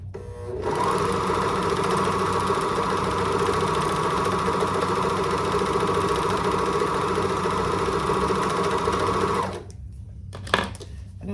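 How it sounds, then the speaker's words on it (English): A serger overlocks the edge of drapery fabric with sequins, a steady loud mechanical whir running for about nine seconds before cutting off, followed by a couple of faint clicks. "This serger isn't having any problem"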